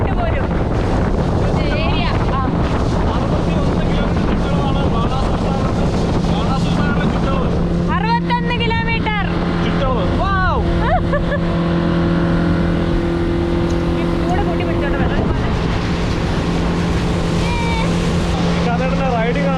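A motorboat engine drones steadily on the Banasura Sagar Dam reservoir, with strong wind buffeting and water rush, while voices talk intermittently over the noise.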